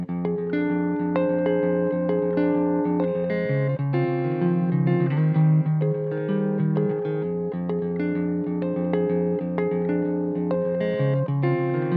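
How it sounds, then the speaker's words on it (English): An electric guitar on the neck pickup through a Koch Pedaltone overdrive plays a warm, rounded melodic line with sustained notes, steady and fairly loud, no voices. "I'm going to be doing one more example on the neck pickup."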